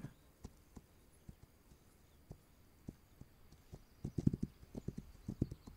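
Horse hooves clip-clop at a steady walking rhythm while riding in the video game This Land Is My Land, soft at first and then louder and quicker near the end.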